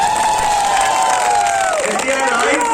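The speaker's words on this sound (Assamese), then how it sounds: "চবৰ কাৰণে এটা তালি বজাই দিয়ক।" A large crowd at an election rally in Zirikinding, Assam, claps and cheers loudly and steadily throughout, a dense sustained roar with a voice over the top.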